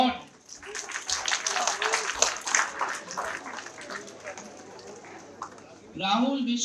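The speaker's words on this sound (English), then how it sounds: "Please applaud." An audience applauds at a university convocation ceremony, a broad wash of many hands clapping in a large hall, fading out before a voice resumes over a loudspeaker.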